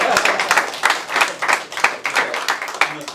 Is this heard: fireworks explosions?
no